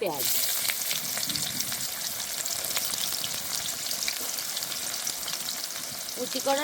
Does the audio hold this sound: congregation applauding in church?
no